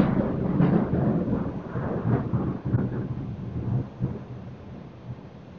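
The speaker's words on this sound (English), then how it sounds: "Got a little storms passing through the area here." A thunderstorm passes close by, with deep rolling thunder rumbles and a steady wash of rain persisting throughout, loud and continuous with no voices.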